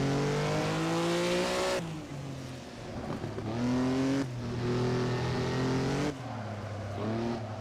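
Several 1950s Grand Prix race cars in a racing game at Pescara roar loudly, engines rising and falling through repeated gear shifts and revving, with no one talking.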